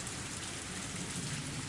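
Heavy rain downpour over a dark swamp in the video game Higurashi, a dense, steady hiss of rain close and constant throughout, with no voices.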